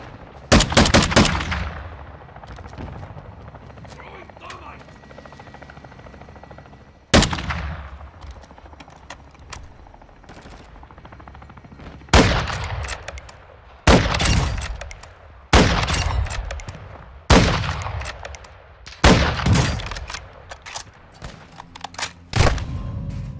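Sniper and machine-gun fire ring out in Modern Warfare 2 Invasion gameplay on Xbox Series X, including the SPR-208, as loud sharp cracks and short bursts recur irregularly with echoing tails and low background rumble between them.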